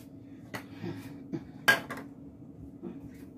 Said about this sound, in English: So now I spoon this out.